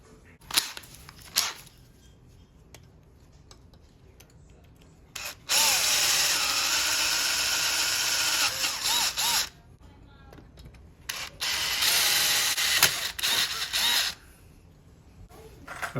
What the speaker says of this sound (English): And then we're just gonna go ahead and drill this through here.